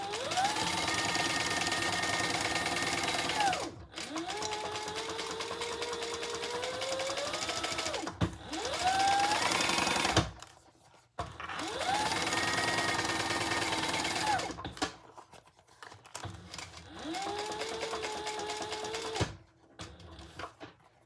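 A sewing machine stitches around a leather crossbody bag in four long runs of fast, steady whirring, its motor pitch rising as each run starts, with short pauses between them.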